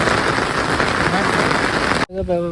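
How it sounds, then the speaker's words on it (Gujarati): Close, loud rain patters and hisses steadily for about two seconds, then cuts off as a person starts speaking. "વરસાદ આવ્યો"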